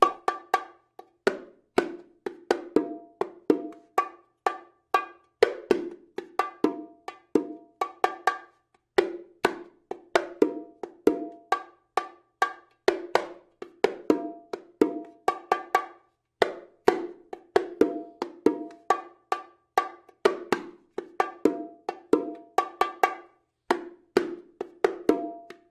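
A bongos rhythm is played by hand across the drums' different sounds: crisp, bright slaps and tones in a steady, repeating syncopated pattern, close and dry throughout with no talking.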